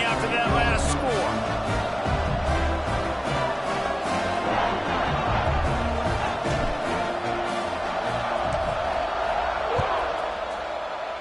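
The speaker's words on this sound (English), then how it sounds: "this crowd is buzzing after that last score" Stadium crowd buzzing in the NCAA Football 26 video game, a dense, continuous roar of many voices with scattered whoops, steady and loud, with commentary talking over it.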